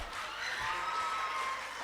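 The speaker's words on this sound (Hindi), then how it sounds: "तालियां हो जाए यार।" An audience at a gathering of Ambedkarite officers and thinkers in Bhopal applauds, a brief, steady wash of clapping heard from a distance at moderate to low volume, with no talking over it.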